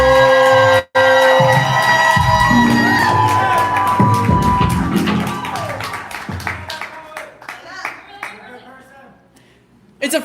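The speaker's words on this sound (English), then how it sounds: "We clapping, we building energy." An open mic poetry crowd on a live night cheers, whoops and claps for the next poet, a loud burst of applause that thins into scattered claps and shouts.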